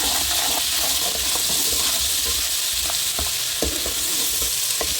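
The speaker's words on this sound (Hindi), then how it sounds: "साथ ही अदरक लहसुन का पेस्ट डाल देंगे। इसको भी अच्छी तरह से भूनेंगे" Steady close-up sizzling of ginger garlic paste frying in hot oil, with occasional stirring scrapes and crackles.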